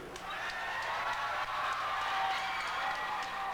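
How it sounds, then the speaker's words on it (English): Audience applause at the start of a concert show, a steady wash of distant clapping and faint crowd cheering, continuous and moderately quiet throughout. "I want you to start out the show with a very warm round of applause all the way from Japan."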